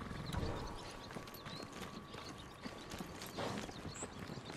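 White horse's hooves clip-clopping in the video game Ghost of Tsushima, a steady run of soft close hoofbeats under faint game ambience, no talk over it.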